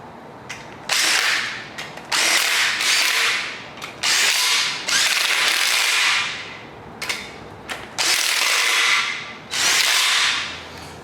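An impact or power tool snugs 13 mm bolts on a 5.3L LS LM7 V8 engine block, firing in about six loud, close bursts of high whirring, each a second or so long and separated by short pauses.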